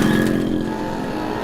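A motorcycle engine roars loudly and steadily, starting strong and then easing slightly in level as the bike pulls away.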